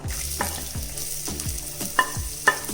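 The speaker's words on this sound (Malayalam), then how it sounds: "ഒരു സവാള അരിഞ്ഞത് ഒരു പച്ചമുളക് അരിഞ്ഞത് കുറച്ച് ഇഞ്ചി അരിഞ്ഞത് ഇത്രയും ഇട്ട് കൊടുക്കാം" Sliced onion, green chili and ginger fry in hot oil for a Kerala-style chicken stew, a steady close sizzle broken by stirring and a couple of sharp metallic taps on the pan.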